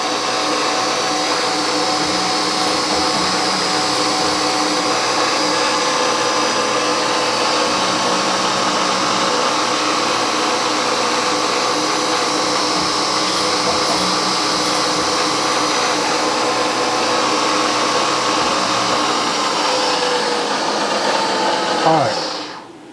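A lathe drills a part for a nine-cylinder radial engine with a number 45 drill, giving a steady, loud mechanical whir that holds for the whole stretch before winding down abruptly at the end.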